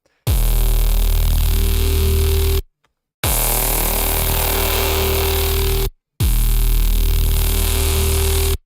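A loud, sustained buzzy distorted tone from a dubstep synth processed with Arturia FX Collection 3 plays in three long blocks separated by brief silences, with harsh fizzing grit concentrated in the upper range.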